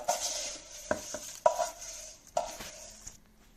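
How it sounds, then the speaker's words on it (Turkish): A wire whisk stirs yogurt soup with roasted vermicelli in a pot, making a continuous close swishing. Several sharp metallic clinks come at irregular intervals as the whisk strikes the pot's sides. "kaynayana kadar karıştırıyoruz."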